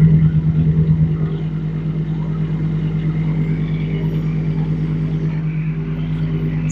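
A JT5120 mini excavator, a 1.2-ton machine, runs with a steady low diesel drone and hum while raising itself on its blade, heard close and fairly loud without speech.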